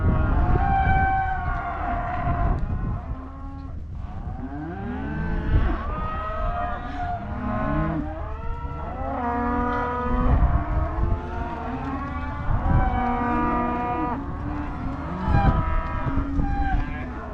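Freshly weaned calves moo repeatedly in their pens, the lowing calls close and loud and overlapping almost continuously, with a low engine-like rumble underneath.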